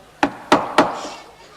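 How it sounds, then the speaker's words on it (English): Three loud, sharp knocks on a wooden door at a steady pace, close by, with each blow ringing briefly into a short decay and no voices between them. "Knock again."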